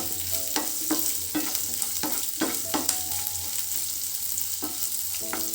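Potatoes fry lightly in a pan with a steady soft sizzle, broken by repeated scraping stirs of a utensil at an uneven rhythm, close and alone.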